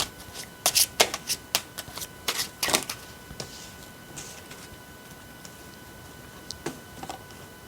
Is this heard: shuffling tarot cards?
yes